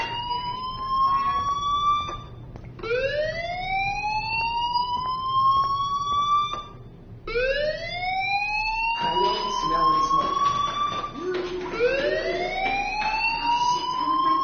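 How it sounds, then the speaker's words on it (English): A fire alarm wails in a PS4 video game, rising siren sweeps that repeat over and over, loud and continuous with brief breaks between cycles and some game noise underneath. "Hey, do you hear that fire alarm?"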